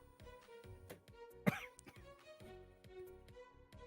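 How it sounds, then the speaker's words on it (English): A person lets out one sharp, harsh cough close to the microphone, with a few softer throat sounds and faint background noise around it. "Coughing up a lung."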